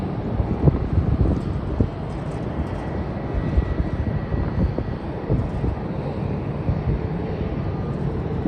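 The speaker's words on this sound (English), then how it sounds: "Flight from the Gold Coast, operated by QantasLink, is landing shortly." A QantasLink airliner arriving from the Gold Coast drones steadily on its landing approach, a broad, constant roar of engine noise mixed with wind buffeting on the microphone.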